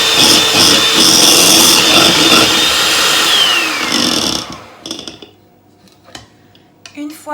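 An electric whisk whirs loudly and steadily while beating two egg whites in a bowl, then cuts off, leaving brief clinks and quiet handling sounds.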